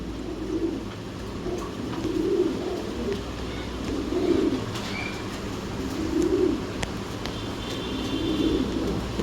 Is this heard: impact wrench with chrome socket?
no